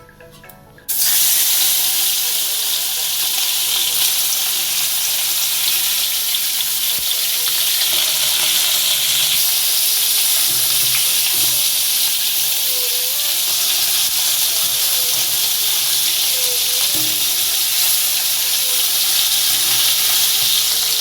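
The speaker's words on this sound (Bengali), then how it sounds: "তেলটা গরম হলে মাছটা ভেজে নেব।" Small salted, turmeric-rubbed rohu-type fish frying in hot mustard oil in a kadai, a steady loud sizzle that starts abruptly and holds evenly throughout with faint crackles, no talking.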